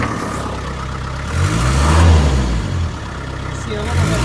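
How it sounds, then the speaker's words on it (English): An old Land Rover Series 2A 2.25-litre diesel engine, on a cold start, rumbles loudly and rises in a revving swell, then settles before picking up again, close by. "I give it a few revs."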